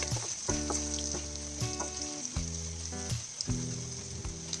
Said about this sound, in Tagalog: umpisa na nating magisa ng sibuyas, bawang, at ground black pepper. Igisa lang natin ang mga ito hanggang maging aromatic.